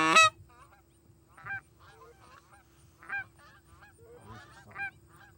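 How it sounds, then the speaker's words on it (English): Geese on a hunt honk in short bursts, one loud close honk at the start followed by several fainter calls spaced about every second and a half over a quiet background. "Oh, here's more geese."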